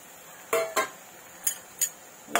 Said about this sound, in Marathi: आता आपण हे वाटाणे टाकून घेऊया।